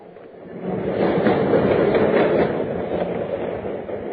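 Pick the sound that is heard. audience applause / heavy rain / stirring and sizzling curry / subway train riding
subway train riding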